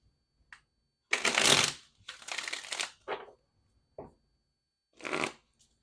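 Tarot cards being shuffled in several quick, crisp riffling bursts separated by brief pauses, close and fairly quiet, with no talking.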